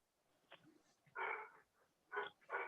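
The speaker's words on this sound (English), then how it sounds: "Dogs want to get in on the deal." Dogs yelp and whimper in short high bursts, a few faint then two louder clusters near the end, heard in the background of a quiet indoor call.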